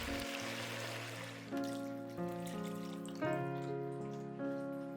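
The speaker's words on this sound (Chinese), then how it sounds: "再倒入适量水没过猪蹄" Water pours into a wok of braised pig trotters, a steady running splash that swells briefly at intervals, with tonal ringing as the level rises; no talking.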